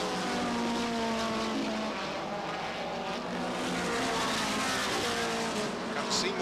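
Race cars roar around Beech Ridge Motor Speedway in a 1991 NEMA event, a dense, continuous engine howl from the passing pack, with an announcer talking over it.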